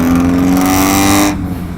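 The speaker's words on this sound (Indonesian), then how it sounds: "Jadi mobilnya berisik banget" Loud, steady engine drone of a car or motorcycle with a constant low hum running about a second, then dropping off abruptly into quieter rumble; no talk.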